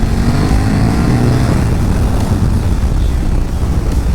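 A loud KTM RC8-R 1195 cc V-twin sport motorcycle engine roars close by while accelerating, a dense rumbling drone with heavy wind noise, steady throughout the few seconds.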